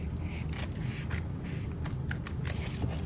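Scissors cut slowly and carefully through thick canvas fabric close up, giving dry rasping snips and fabric rubs over a steady low rumble, with no voices.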